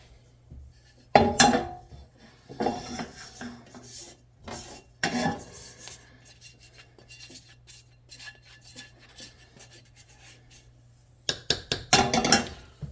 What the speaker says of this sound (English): And scrape all of this goodness into the chili.